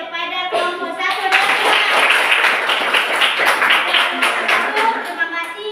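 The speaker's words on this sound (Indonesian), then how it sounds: "kita kasih aplaus kepada kelompok 1" Classroom applause for a student group, dense continuous hand clapping from many children, loud and close, with a few voices mixed in.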